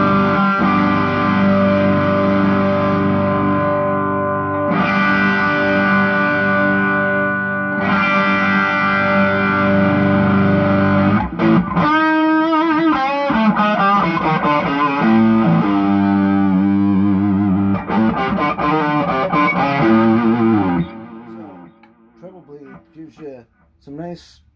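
A distorted electric guitar through a Seymour Duncan '59 bridge humbucker plays sustained, crunchy chords with heavy effects and reverb, then shifts to picked notes before ringing out and fading.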